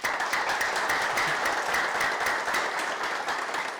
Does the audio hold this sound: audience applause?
yes